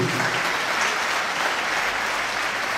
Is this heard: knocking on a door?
no